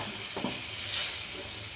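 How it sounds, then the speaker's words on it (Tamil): Yogurt being stirred into an onion gravy in a hot pan, a steady close hiss of sizzling with a few soft scraping stirs, no voices. "இந்த தயிரை சேர்த்துட்டு கொஞ்சம் நேரம் கலந்து"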